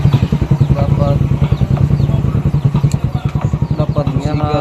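A Suzuki Raider R150 Fi motorcycle engine running with a rapid, pulsing idle throb, close and loud, while someone talks over it.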